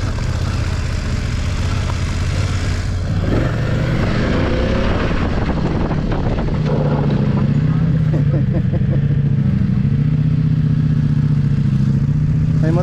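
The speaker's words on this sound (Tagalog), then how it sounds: "May motor." A motorcycle engine idles and revs nearby, its rough low drone rising and settling, with people talking over it.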